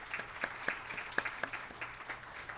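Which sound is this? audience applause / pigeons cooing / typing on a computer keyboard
audience applause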